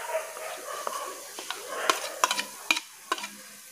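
Prawn paste being stirred and fried with spices in a pan, a soft sizzle running beneath scattered scraping clicks of a spoon against metal, close and fairly quiet.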